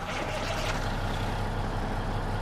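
Freightliner Classic XL truck with a Cummins 600 engine in Euro Truck Simulator 2, a deep, bassy engine drone running steadily and close, with a faint higher whine over it.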